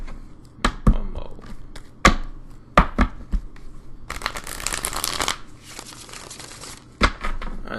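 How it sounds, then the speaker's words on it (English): Tarot cards are shuffled by hand close up, a run of crisp slaps and riffles with a longer dense flutter in the middle, no voice. "as we shuffle"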